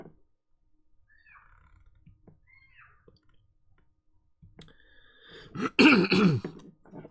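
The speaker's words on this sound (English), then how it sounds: "And clear my throat, 1 second." A person clears their throat in a few short, loud, rough bursts close to the mic near the end, after a stretch of near quiet with faint small noises.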